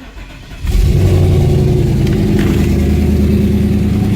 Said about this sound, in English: I'm not sure why this thing sounds weird through the exhaust yet